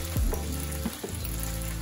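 Chicken mince cutlets fry in a pan with a continuous crackling sizzle, broken by a few soft thuds from moving them, and nobody talks.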